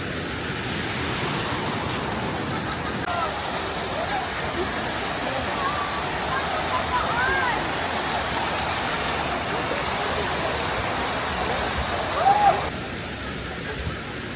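Steady rushing roar of a waterfall along a mountain road route in the Philippines, continuous and fairly loud with no pauses, a faint voice briefly underneath.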